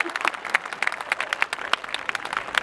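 Audience applause at a Hindi kavi sammelan poetry recital in 2015: a crowd clapping in a dense, lively patter that stays fairly loud and even across the moment.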